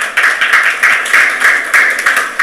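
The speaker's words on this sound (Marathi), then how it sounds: "त्यांचं अभिनंदन करा टाळ्या वाजून" An audience at a community rally claps loudly in steady, rhythmic unison, a continuous run of even beats with no voices over it.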